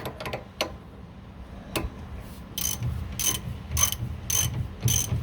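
Ratchet wrench tightening a nut on the fiberglass leaf spring of a 1969 Corvette: a few scattered clicks, then a regular run of sharp ratcheting bursts about every half second, close up.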